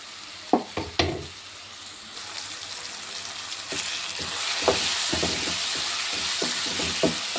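Tomatoes fry in a pan with a steady sizzling hiss, opening with a few sharp clinks of a utensil, then a continuous, moderately loud frying sizzle with occasional soft stirring taps.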